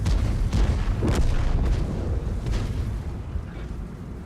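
A tank cannon shot in a tank video game, with a T-54 nearby: a heavy booming blast with a rumbling low tail, loud and close, followed by a fading rolling echo.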